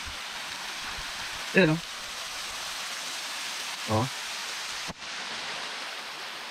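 Barasibis Falls in Lagayan, Abra, roars as a steady hiss like heavy rain, constant and broadband, with a person's brief voice cutting in twice over the spray.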